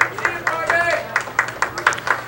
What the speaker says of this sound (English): Crowd trying to urge him on.